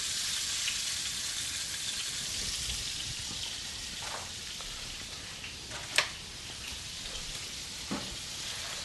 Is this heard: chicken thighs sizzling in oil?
yes